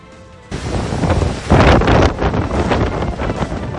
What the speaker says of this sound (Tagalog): Walang humpay ang malakas na buhos ng ulan at hanging dala ng Super Typhoon Nando sa Santa Ana, Cagayan.